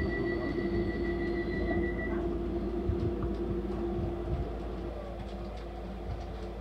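A DLR light-rail train runs on the line between Stratford and Canary Wharf, a steady rolling rumble heard from inside the carriage with a thin whine that fades out partway through.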